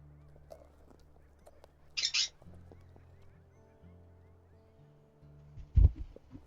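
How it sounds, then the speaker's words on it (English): A bird in a video game about a sickly wolf pack gives a short honking, goose-like call nearby, one brief burst in the middle, with a second louder burst near the end over a low, steady game ambience. "And there's now a bird on my head."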